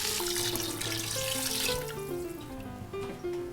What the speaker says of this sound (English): It's time to add 2 liters of water.